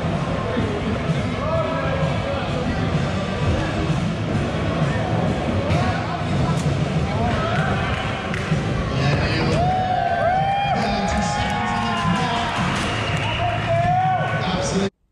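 A crowd at the Mount Hawke Vert Jam skate competition cheers and shouts as a skater drops into a vert ramp, with board clatter and bangs, lively babble and talk running throughout.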